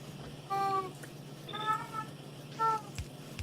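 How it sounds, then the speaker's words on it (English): A pet cat meows three times, each call loud and close with clear harmonic tones, separated by short pauses over a steady low electrical hum. "My cat is freaking out."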